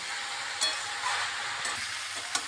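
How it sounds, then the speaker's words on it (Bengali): Continuous soft sizzling of vegetables frying in a pan, with a few faint scraping stirs breaking through. "ভালোভাবে একটু ভাজা ভাজা করে নিচ্ছি"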